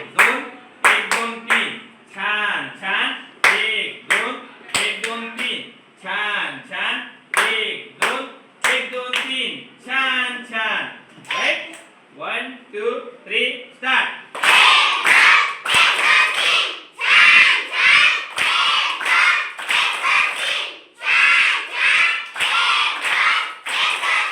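Demonstration of different types of hand claps, sharp bursts of clapping in varied rhythms and loudness, separated by spoken explanation, with faster, louder clapping toward the end.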